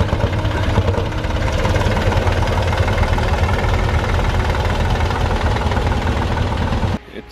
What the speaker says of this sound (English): And there are all sorts of tractors here.